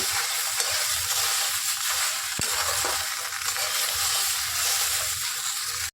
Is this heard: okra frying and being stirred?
yes